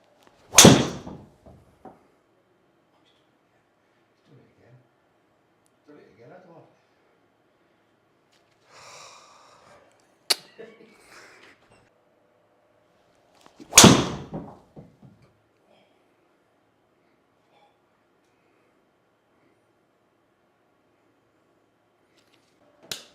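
A Wilson Staff Model X golf ball, the firmer version, is struck by a club in two separate loud, sharp impacts about thirteen seconds apart, with faint rustling and movement between them and no talking.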